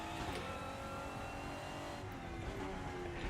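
A race car in RaceRoom Racing Experience on a tight track corner, with a dense, steady engine roar near and loud throughout and some tire scrub.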